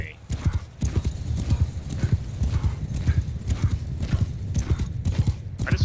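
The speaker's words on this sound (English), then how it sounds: "I just find like the horse noise is really satisfying too" Horse hooves clip-clop in a quick, steady rhythm inside a video game, with a whinny mixed in, while players' voices talk over the action.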